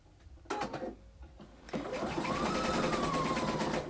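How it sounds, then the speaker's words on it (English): A sewing machine set to a zigzag stitch sews elastic onto a muslin piece: a few short clicks and starts, then a steady close whirring run of stitching with a rising and falling motor pitch. "I'm just going to take my elastic and I'm just going to sew it to the muslin piece on one end"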